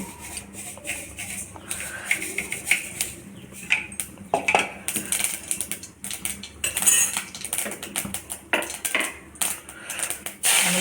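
Mustard seeds and cumin splutter in hot oil in a pan while a tomato gojju is being made, giving dense, irregular crackling and popping with sharp clattery bursts that stay loud and close throughout.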